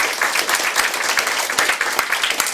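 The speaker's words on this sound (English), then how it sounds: "I'd like to just give a round of applause to the Piper." A crowd at a club day event claps for a piper, a dense sustained burst of applause heard close and loud from start to finish.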